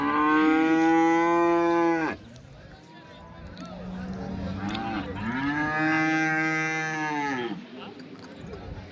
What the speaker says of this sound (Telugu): చింతామణి సంతలో ఈ వారం దూడలు చూడొచ్చండి